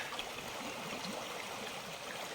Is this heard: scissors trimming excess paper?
no